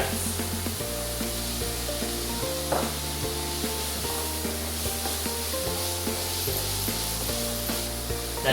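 Chopped almonds and carrots cook in a soup pot for a pearl barley soup, making a steady close sizzle with scraping stir sounds beneath continuous background music.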